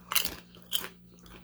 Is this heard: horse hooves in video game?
no